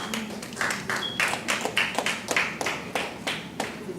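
A small audience applauds panelists at a PIBBA 2018 event with quick, uneven hand claps, moderately loud and close, sustained for a few seconds.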